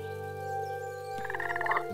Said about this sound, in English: Oh, we got frogs.